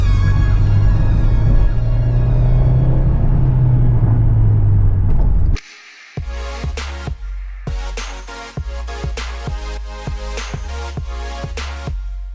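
A 2018 Fiat 124 Spider Classica on a road trip, its engine droning steadily before a brief drop, then a series of rhythmic revving bursts as it accelerates through gears, loud and close with no talking.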